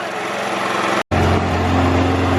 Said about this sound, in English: So Corinne is just mowing the grass as she loves it, with our beautifully reserviced and good as new mower from France.